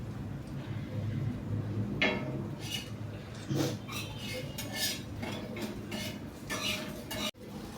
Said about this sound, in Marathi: हे बघा, मी त्याला आता पलटी केलंय